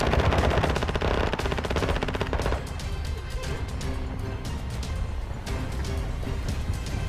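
Rapid automatic gunfire rattles in dense, sustained bursts during a close-quarters firefight in a power plant in a military shooter video game. It is loud and near and continues almost without pause.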